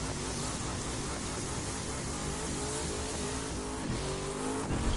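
A dragster in The Crew 2 roars at full throttle in a steady, loud, dense engine blare that holds for the whole stretch with a slight lift near the end.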